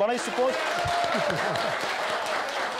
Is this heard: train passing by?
no